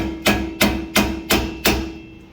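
Five sharp metallic hammer taps on a rear wheel bearing of a 2015-2021 Honda Civic land at an even, steady rhythm, each ringing briefly before the next strike, close and clear.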